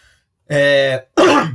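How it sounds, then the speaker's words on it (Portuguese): Two short bursts of coughing or throat clearing, close and loud, separated by a brief pause. "tossi várias vezes, preocupado"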